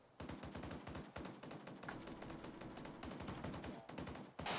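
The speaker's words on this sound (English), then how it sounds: "Enemy gunfire." Enemy gunfire in a military video game, rapid automatic bursts of shots rattling almost continuously, loud and dense, with no talk over it.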